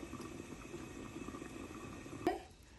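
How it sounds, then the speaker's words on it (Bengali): Kalojam sweets boil in a pot on high heat, giving a steady low bubbling simmer at moderate level, with a brief clink near the end. "এই যে দিয়ে আমি হাই হিটে 3 মিনিটের মতো এটাকে ফুটে দিবে"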